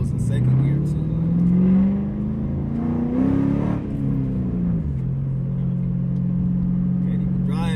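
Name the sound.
2007 Mustang GT with SCT tune accelerating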